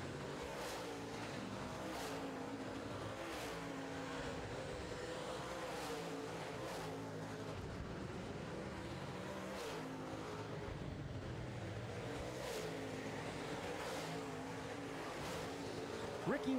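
Late model race cars roaring around an oval track at an NLRA feature, a steady distant engine drone with cars passing, heard faintly and continuously.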